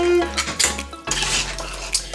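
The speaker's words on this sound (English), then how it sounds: "let's give it a stir" A spoon stirs jambalaya made with five meats in a pot, giving close metallic scrapes and clinks against the pot with a soft sloshing between strokes.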